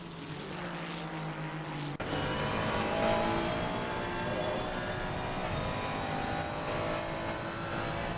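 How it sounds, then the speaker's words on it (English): A Ferrari race car engine screams at high revs around Donington Park, a sudden loud onset giving way to a sustained, steady mechanical wail with no talking. "Let's just listen to that Ferrari sing for a while"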